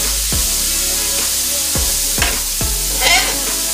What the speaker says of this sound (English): Let's give our veggies a nice shake.